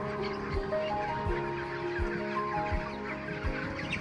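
Hens fill a poultry farm hall holding around 2000 birds, clucking and calling in an overlapping chorus, with a few louder squawks rising above the steady flock noise.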